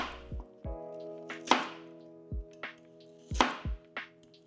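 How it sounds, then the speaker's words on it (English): Knife chopping through peeled lotus root into round slices on a cutting board, several crisp separate cuts in an irregular rhythm, close and clear with nothing else heard. "Peel the lotus root, slice into round pieces."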